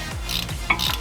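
A hand ratchet turns a 7mm hex bit to loosen the front brake caliper pins on a BMW E90, giving quick, close metallic clicks in a short rhythmic run, with no talking.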